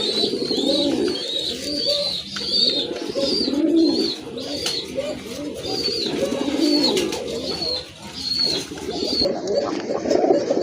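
Chila pigeons coo again and again in soft, rolling phrases, close and fairly loud, with several birds overlapping and light chirps mixed in.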